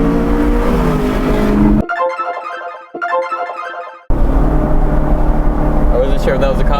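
A loud V8-swapped BMW 1 Series with E92 M3 parts roars and revs while driving, its rough engine drone dropping briefly as shifts cut the power before surging back at full volume.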